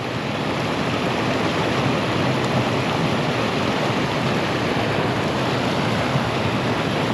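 White water in a creek below a dam rushes steadily, a dense, even broadband roar that stays loud and unchanging throughout, with no voices.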